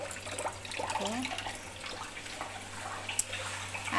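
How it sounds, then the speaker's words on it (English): Water poured into a pan of spaghetti on the stove, a soft running, splashing pour lasting a few seconds under a steady background hum, with small clinks near the end. "I'm going to add in little water."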